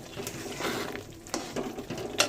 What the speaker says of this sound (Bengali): এবার এটাকে আরেকটু কষাবো